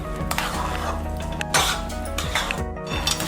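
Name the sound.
stirring sweet potato and milk powder mixture in a pan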